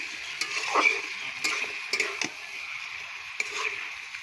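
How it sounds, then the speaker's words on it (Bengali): Meat with Sunrise meat masala is stirred in a pan, giving soft scraping clinks and faint sizzling with a few sharp knocks of the utensil against the pan, close and steady with no talk. "ধুয়ে রাখা মাংসটাও দিয়ে দিলাম ভালো করে নাড়বো এখন"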